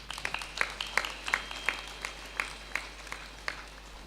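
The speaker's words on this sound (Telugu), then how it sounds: "చప్పట్లు కొడదాం." Scattered audience applause at a spiritual meditation gathering: a few hands clapping in irregular, fairly faint bursts that stay sparse throughout.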